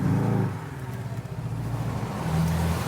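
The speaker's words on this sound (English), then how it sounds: "Accelerate quickly up to speed" Porsche Boxster flat-four engine with optional sports exhaust accelerating hard, a loud, steady rising drone from close by, briefly dipping before building again with a strong low growl throughout.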